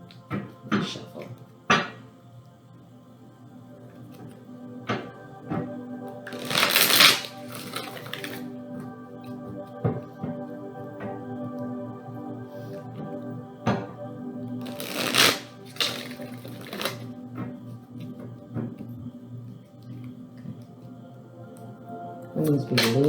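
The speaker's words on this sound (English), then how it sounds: "Shuffle." A deck of tarot cards is shuffled in a few quick riffling bursts between scattered taps and card handling, close and clear over a steady background hum, with a person talking in between.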